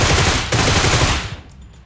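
Rapid automatic gunfire in a PUBG Metro match, a loud, dense, continuous burst of shots that rattles on for over a second before cutting off into a brief fading tail.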